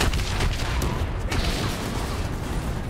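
Dense, continuous gunfire and explosive booms from a Call of Duty Black Ops 3 campaign firefight against a VTOL and an APC, a loud, unbroken roar of weapons fire with no clear pauses.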